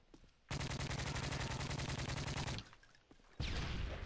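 Rapid bursts of automatic gunfire in a shooter video game, a dense rattling volley lasting about two seconds, then a pause and another loud burst starting near the end.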